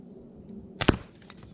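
CO2 pellet pistol running low on gas fires a single shot, a short, fairly weak pop followed by a faint rattle, close in a quiet setting.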